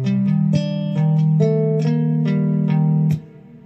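A slow guitar riff of plucked notes, each clearly separated and ringing, played close and moderately loud before fading out near the end.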